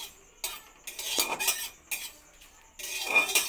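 Panch phoron and a dried red chilli are stirred in a dry wok, with a spatula scraping and clattering against the metal in short, uneven bursts separated by brief quiet gaps.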